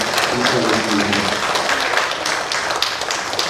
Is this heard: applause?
yes